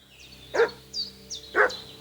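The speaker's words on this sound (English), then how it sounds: "What's that dog making such a fuss about?" A dog barks in the medieval video game Kingdom Come: Deliverance II, two distinct barks about a second apart, each with a faint yip after it, fairly close against quiet background ambience.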